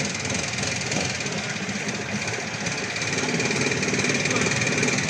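A steady, loud boat engine drones with a rapid mechanical chug throughout, running nearby in Thailand, with a faint voice mixed in.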